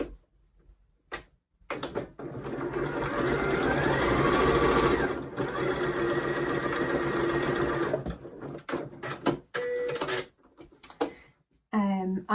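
A domestic sewing machine stitches a fabric make-up brush roll, running in loud, steady bursts with short pauses and a reversing pass, close by and mostly alone.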